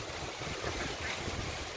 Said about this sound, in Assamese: পানীৰ ঢৌ